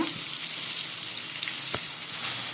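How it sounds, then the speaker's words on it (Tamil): Vegetables sautéing in a pan with rock salt for bisi bele bath, a steady close sizzle with light stirring and one brief clack near the end. "இது எல்லாத்தையும் 5 நிமிஷம் நல்லா வதக்கிக்கோங்க"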